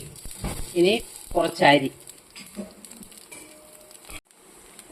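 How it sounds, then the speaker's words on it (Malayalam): Mustard seeds crackle and sizzle in hot coconut oil in a pan, fairly faint and close, partly under a voice speaking over the stove. "കടുകിട്ടു, കടുക് പൊട്ടി."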